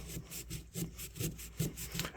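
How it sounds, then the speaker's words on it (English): Fine 600 grit sandpaper rubs back and forth on a vintage Hammer Brand Barlow pocketknife, a soft, close, rhythmic scratching of about eight strokes, faint and steady. "We'll just take our 600 grit sandpaper and get down in there. We'll do some sanding."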